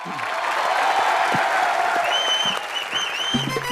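Studio audience at a comedy show applauding for Shyam Dada, a loud, dense wash of clapping throughout that thins slightly toward the end, with faint voices and a brief tonal sound rising over it.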